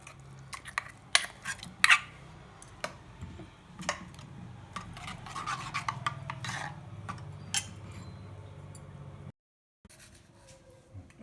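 A spoon clinks and scrapes in a bowl as ground coconut chili paste is mixed into curd for a tomato thokku and manathakkali pachadi meal, irregular sharp taps over soft stirring, ending in a brief pause and quieter scraping.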